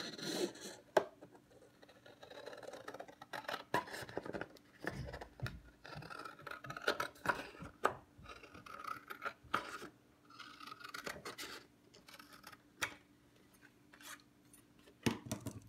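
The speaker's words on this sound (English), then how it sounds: "let's go ahead and take our scissors and go ahead and scribe that arc." Scissors scribing an arc on a workpiece during a fitting job, heard as close, quiet scratching and rubbing strokes in irregular bursts with short pauses, no talking.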